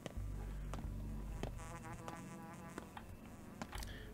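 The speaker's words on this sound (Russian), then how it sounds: "Блин, мухи какие-то еще жужжат над ушами." Insects hum and whine near the ears in the video game Pathologic 2, a buzzing fly that circles in and out over a few seconds, interrupted by soft game clicks and footsteps, with no voices.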